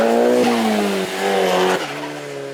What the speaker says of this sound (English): Listen to that turbo, that sounded absolutely perfect.